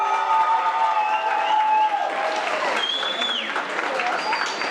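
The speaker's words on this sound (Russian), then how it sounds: "Аплодисменты!" A crowd at a school celebration claps and cheers continuously, with high, sustained shouts and whistle-like voices carrying over the applause for the whole short stretch.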